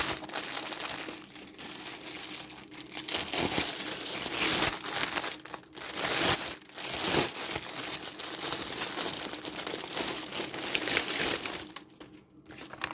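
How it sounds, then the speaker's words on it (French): The crinkly plastic bag of a diamond painting kit is opened and handled close by, a steady dense crackling and rustling lasting several seconds with brief dips. "je vais encore faire un peu de bruit, je vais ouvrir le sachet."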